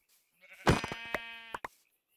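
A single sheep in Minecraft, played with the Mystical Agriculture mod, lets out one wavering bleat, close and clear, followed by a couple of short trailing notes, with no talk.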